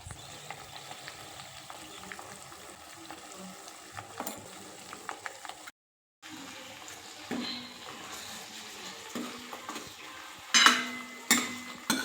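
Cooked dal poured straight into a hot pan sizzles and is stirred, a continuous crackle with scraping spoon strokes and a few louder clanks of utensils toward the end.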